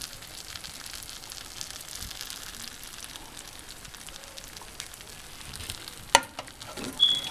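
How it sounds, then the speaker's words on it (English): Honey buffalo sauce poured over chicken wings sets off a steady, soft sizzle that runs throughout, with a couple of sharper clinks and splashes near the end. "I'm pulling the sauce directly over the actual wings."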